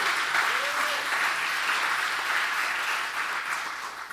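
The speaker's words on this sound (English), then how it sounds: "So you're supposed to clap when that happened." A sustained round of audience applause at a 2016 Vision Night event, dense and steady, tapering off slightly toward the end.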